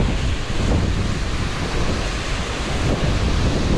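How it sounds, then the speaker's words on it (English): Waterfalls at Talla Reservoir pour down over rocks in a steady, loud, close roar of rushing water that never lets up, with no voices. "watch the waterfalls cascading down and round"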